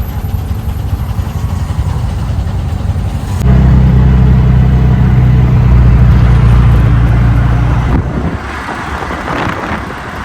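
Heard from inside a CNG auto-rickshaw stuck in heavy road traffic, a loud, close engine drone rises to a heavier rumble partway through, then eases off, with a wash of surrounding vehicle noise.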